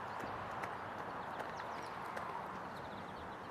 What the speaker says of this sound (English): You can still hear the footsteps.